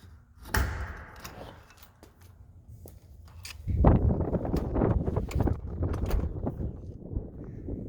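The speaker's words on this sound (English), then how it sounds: "It is very windy." Strong gusty wind buffets the microphone outdoors at a hangar home construction site, a low rumbling roar that swells from about four seconds on, with scattered thumps and knocks over the steady blustering.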